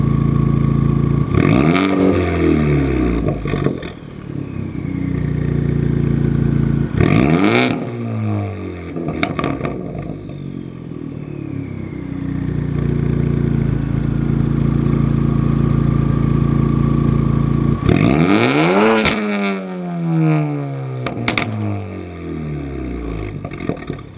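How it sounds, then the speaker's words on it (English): A 2018 Ford Focus ST engine with a near straight-pipe exhaust and stratified tune revs hard three times, each rev a loud rising roar with crackling pops, idling with a rough drone between bursts. "It has the stratified tune, so with the loud exhaust crackles."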